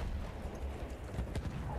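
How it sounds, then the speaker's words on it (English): A horse gallops in Battlefield 1 multiplayer, its hooves making a quick clip-clop rhythm that is moderately faint and short. "Watch out, horse coming in at A."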